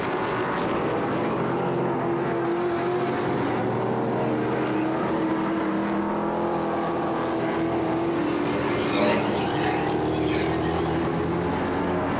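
Hot rod race cars lapping Sunset Speedway, their engines forming a steady, continuous roar that swells slightly near the end, with no pauses or breaks.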